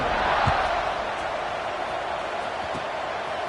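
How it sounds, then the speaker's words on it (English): A stadium crowd at a Clemson versus Georgia Tech college football game buzzes steadily after a score, a dense roar of many voices with a couple of low thumps. "this crowd is buzzing after that last score"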